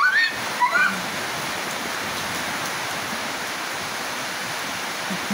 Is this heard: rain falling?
yes